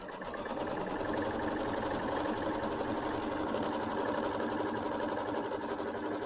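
An embroidery machine stitches the tack-down line through quilt batting, a steady, loud, rapid mechanical whirr and needle chatter running continuously on its own.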